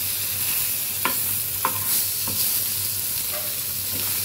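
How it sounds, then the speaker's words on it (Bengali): Rohu fish frying in a pan, a steady close sizzle with faint stirring knocks from a spatula at intervals and no talk. "দেখুন আমার মাছ ভাজা শেষ প্রায়।"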